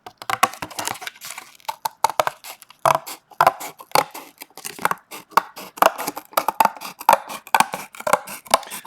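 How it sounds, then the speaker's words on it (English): Cardboard is cut along a marked line with scissors in a steady series of close, crisp snips and crunches, each cut quick and dry, repeating rhythmically with short pauses between, no talk. "Once you've cut off the edge, maybe you can refine your edge by just going over that line once more, making sure your cutting is exactly on the line"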